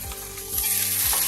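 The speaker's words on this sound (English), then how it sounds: "look at the sizzling fire" Food sizzles and crackles steadily in a hot frying pan, loud and close, with a light stir partway through and no talk.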